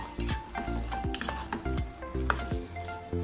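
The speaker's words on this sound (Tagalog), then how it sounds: "At ilagay na natin ang tagliatelle pasta. At haluin lang natin to ng mga 8 hanggang 15 minuto" Tagliatelle pasta is stirred in a hot pan for a chicken pasta dish, with a steady close sizzle and frying crackle and the repeated scrape and clink of the spoon against the pan.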